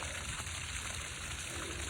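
A drainage pump pushes water out of a well, a steady close rushing and trickling of flowing water with a low motor rumble underneath, continuous for the whole stretch.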